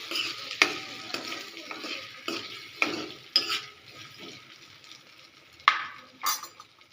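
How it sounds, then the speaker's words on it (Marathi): Finely chopped potato frying in a pan for sabudana khichdi, with a steady sizzle broken by repeated sharp scrapes and clinks of a spoon stirring against the metal, close and fairly loud, no talking. "मी सर्व बारीक चिरलेला बटाटा यामध्ये घातलेला आहे याला छान असं करपूस असं भाजून घ्यायचं आहे"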